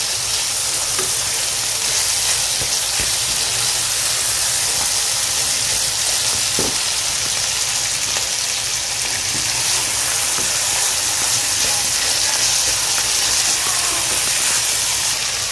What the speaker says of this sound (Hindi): हम मसालों के साथ कलेजी को भूनेंगे हाई फ्लेम पे